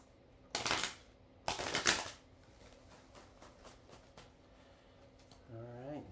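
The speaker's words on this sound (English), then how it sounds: "we're still shuffling" Tarot cards are shuffled in two quick riffling bursts, followed by softer, scattered taps and a brief voice at the end.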